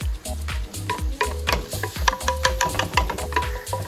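Ziti ingredients sizzling in a pan while being stirred, a soft continuous fry punctuated by quick repeated scraping and clinking strokes of a utensil, close by and moderately quiet.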